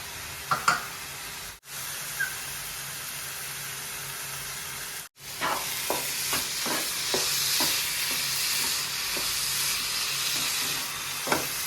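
Grated carrot halwa frying in ghee on a tawa, a continuous hissing sizzle broken by repeated stirring scrapes, close up with no talking.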